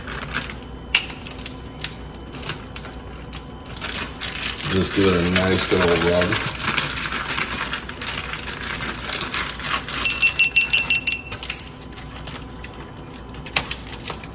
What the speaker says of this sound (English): Sorry about the GoPro noise.